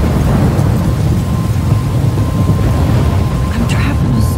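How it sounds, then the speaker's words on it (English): Rolling thunder and steady rain of a thunderstorm in the video game Life Is Strange, a loud, continuous low rumble with rain hiss spread throughout. "I'm trapped in a storm?"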